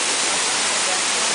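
A waterfall pours beside garbage cans, a steady, dense broadband rush of falling water that stays constant and fairly loud throughout, with no distinct events.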